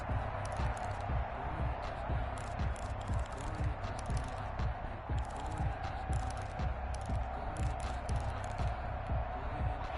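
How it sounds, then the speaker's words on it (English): Stadium crowd in a PS4 football game during a season opener near the goal line, a loud, dense roar that holds steady throughout, with rhythmic thumping beneath it. "That just means this crowd's going to get even louder."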